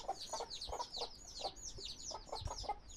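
Young chicks peep in quick, high, repeated chirps among hens, with low clucks and scratching underneath, fairly close and continuous.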